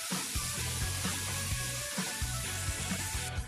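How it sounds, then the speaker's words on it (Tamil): Onions sautéing in oil in a pan for egg curry, a steady close sizzle and crackle with faint clinks of stirring throughout. "இப்போ இந்த வெங்காயம் நல்லா கோல்டன் ப்ரௌன் ஆகிற வரைக்கும் நல்லா வதங்கணும்"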